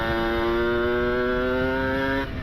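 A two-stroke motorcycle engine braking on a descent, its steady buzzing drone held close and loud for about two seconds before it suddenly drops away.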